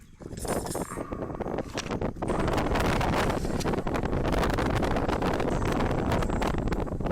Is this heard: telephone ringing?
no